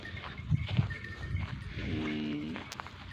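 Goats on a farm where they are bred and raised, with a couple of low grunting calls followed by a longer nasal bleat, fairly faint against soft farmyard background noise.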